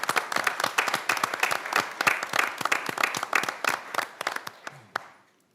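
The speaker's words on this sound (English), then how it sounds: "give them all a big round of applause" A city council meeting audience applauds newly elected council members, a dense run of steady clapping that holds for about five seconds, then fades out quickly at the end.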